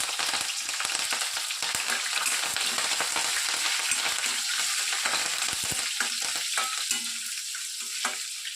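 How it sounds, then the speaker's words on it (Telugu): Hot oil sizzles and crackles loudly and continuously as dried red chilies and curry leaves fry for a brinjal curry tempering, with occasional stirring noises. "వెంటనే కట్ చేసి పెట్టుకున్నటువంటి ఎండుమిర్చిని వేసేసుకుంటున్నాను. అలాగే కరివేపాకును కూడా వేసేసుకోవాలి."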